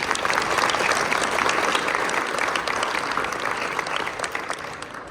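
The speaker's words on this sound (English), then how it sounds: "Let's give them a round of applause." An audience at a gym dedication ceremony claps steadily, a dense round of applause that holds strong and then gradually tapers off.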